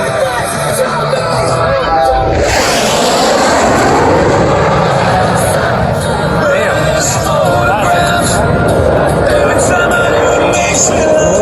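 An F/A-18 Super Hornet jet makes a high-speed photo pass at an air show, a loud roaring engine sweep that surges in around two seconds and stays dominant, with an announcer speaking and crowd noise underneath.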